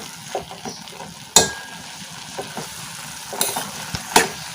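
Brinjal, tomato and peas curry sizzles in a pan, a moderate steady fry with a few sharp spatula clacks scattered through.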